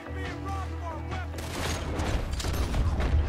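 Rapid Gatling gun fire in Red Dead Redemption 2, a dense, loud burst of shots that starts about halfway through and keeps rattling, with a steady low rumble underneath and no talk.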